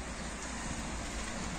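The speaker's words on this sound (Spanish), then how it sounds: "está toda la noche lloviendo, ha estado toda la noche lloviendo" Steady overnight rain falls outside an open balcony door in Alicante, a dense, even hiss with a low rumble beneath it that carries on unbroken and close.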